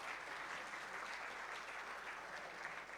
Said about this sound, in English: A round of applause for our session, please.